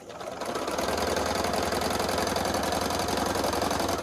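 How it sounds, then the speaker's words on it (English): Quilt pieces are fed through a sewing machine that hums in a continuous, even run at close range, its motor whir and needle chatter steady throughout with no voices. "I can sew to that point happily"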